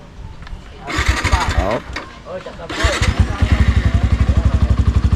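A small boat's motor is started after freshly changed oil, first with cranking bursts and then catching into a steady, loud, rapid putter that fills the second half, with a brief voice at the start.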